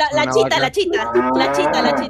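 A voice imitates a cow's moo in a long, drawn-out, harmonic lowing tone, loud and close, with a short spoken bit mixed in.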